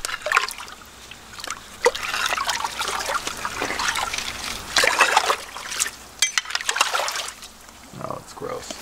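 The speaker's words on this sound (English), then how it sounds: "It's produced a good little splash of water." Water splashes and trickles close by in uneven bursts, with a voice talking intermittently over the wet sloshing.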